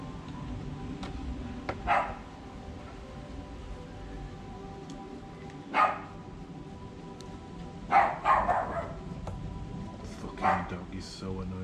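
A dog barks in scattered bursts a few seconds apart, fairly near and moderately loud, over a steady background hum while someone cleans a quadcopter and people talk.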